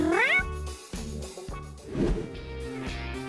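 A kitten peeking out of a plaster cast meows over busy background music, a single high cry early on followed by softer mews, fairly close and partly masked by the music.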